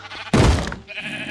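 A sheep in a video game lets out a single short bleat, loud and close, following a soft thump, with faint game ambience underneath.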